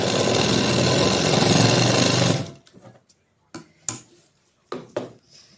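A sewing machine runs steadily for about two seconds, stitching a double-folded blouse hem, then stops, followed by a few close clicks and fabric handling sounds.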